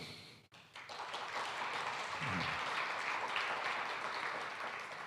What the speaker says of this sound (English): Please, we applaud to express our gratitude and support.